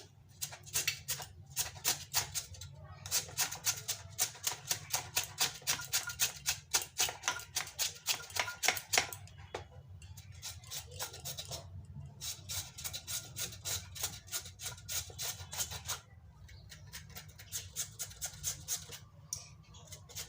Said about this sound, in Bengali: এই চিপস মেশিনটা দিয়ে আমি এখন পেঁপেটা কেটে নিচ্ছি